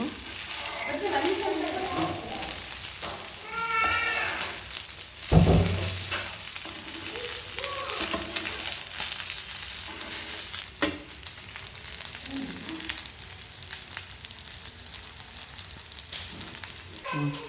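Colocasia leaf rolls (patrode) roast in a pan with a steady low sizzle and crackle, occasional stirring scrapes and a soft knock partway through, close by with no talking over it.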